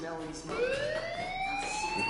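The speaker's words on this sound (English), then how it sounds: "Hey, do you hear that fire alarm? That means you should be outside." A fire alarm in the video game Life is Strange, rising wailing siren tones sweeping upward and sustained through the moment, fairly loud and steady.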